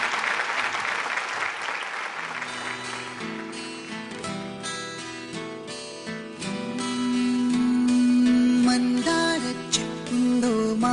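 Audience applause rings out at a children's dance show grand finale, a steady clapping wash that swells under music starting up, continuing throughout.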